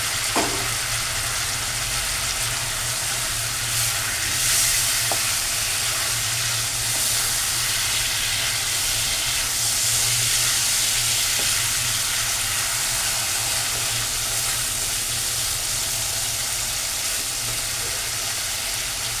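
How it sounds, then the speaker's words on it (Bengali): Pieces of fried salmon fish dropped into hot oil with masala, giving a loud, continuous close sizzle that holds steady throughout with no talking. "এবার ভাজা মাছটা এর মধ্যে আমি ছেড়ে দিলাম"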